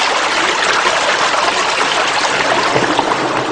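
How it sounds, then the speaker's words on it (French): A small river rising in a valley near Tence, Haute-Loire, flows in a steady, close broadband rush and babble, with no voices and no breaks. "C'est une petite rivière qui prend naissance dans cette vallée."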